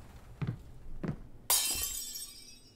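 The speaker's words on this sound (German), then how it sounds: "es ist was runtergefallen wie ein Glas" Glass falls and shatters in a horror video game: two soft thuds, then a sudden loud, bright crash with a ringing, tinkling tail that slowly fades.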